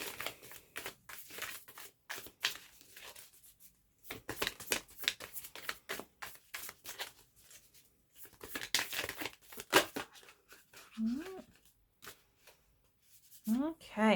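Tarot cards being shuffled by hand in repeated crisp riffling bursts separated by short pauses, close and fairly loud, with a few brief vocal sounds near the end.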